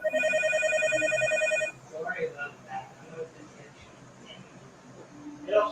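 Telephone ringing loudly and close for under two seconds with a steady electronic trill, then stopping as people talk casually over a quiet room.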